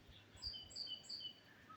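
Faint, high bird chirps repeat in a quick series over quiet background, a songbird calling at a distance.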